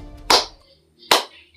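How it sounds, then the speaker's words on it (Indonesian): Two sharp hand claps spaced under a second apart, close and crisp, offered as applause for West Sumatra sambo athletes. "tepuk tangan untuk Sumbar"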